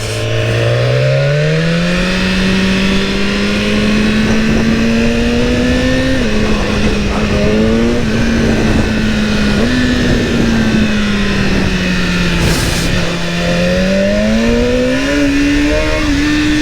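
A BMW S1000R motorcycle in first gear on a mountain pass road, its engine droning loud and close, the pitch surging and dipping unevenly as it revs and bucks, with no talking.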